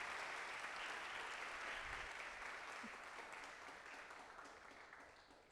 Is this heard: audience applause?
yes